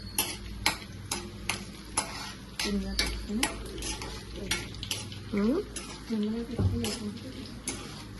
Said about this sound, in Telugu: సిమ్లో పెట్టుకుని మిరపకాయలు వేపుకుని పక్క తీసేసుకోవాలంటే ఇలా